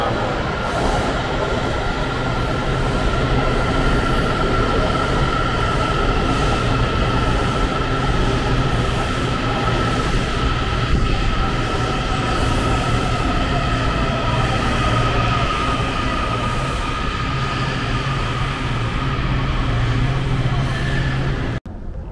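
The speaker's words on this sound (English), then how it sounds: "Look at the train coming, orange line." A Washington DC Orange Line metro train arrives at a station, rumbling steadily, a constant loud drone with a faint whine running throughout, no talking.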